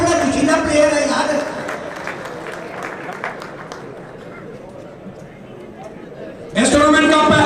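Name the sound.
applause from crowd at pigeon sports festival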